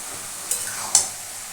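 Strained yogurt being stirred into mixed vegetables in a pan, two brief scraping strokes over a faint steady sizzle, close and otherwise quiet.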